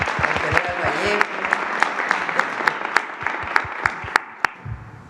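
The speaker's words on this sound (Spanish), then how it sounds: "Un aplauso a Defensa, a los ingenieros militares, al general Vallejo." Applause at a Mexican presidential morning press conference honoring the Defense ministry's military engineers and General Vallejo: a steady crowd clapping for about five seconds with sharp individual claps standing out, a voice murmuring beneath, tapering off at the end.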